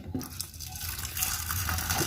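Hot water poured from close by over soaking cashews and almonds in a kitchen bowl, giving a continuous splashing, trickling wash of liquid.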